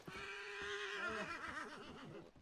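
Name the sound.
horse neighing, upset, in video game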